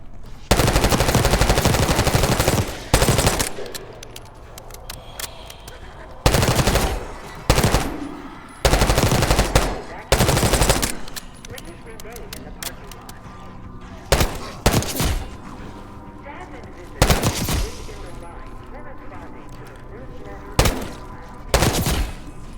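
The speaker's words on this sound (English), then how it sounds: "Gunfire? Yeah. Sounds like it's coming from one of the lower floors." Bursts of automatic gunfire from lower floors of a building in Call of Duty Black Ops 6, loud, rapid volleys separated by brief pauses, with faint voices between them.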